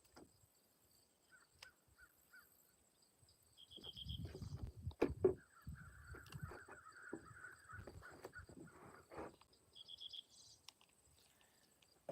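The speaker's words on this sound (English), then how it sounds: "Those birds. Shut the freak up, please." Crows caw near a pond, a few sharp calls over a faint steady insect buzz, with a stretch of nearby rustling and handling noise in the middle.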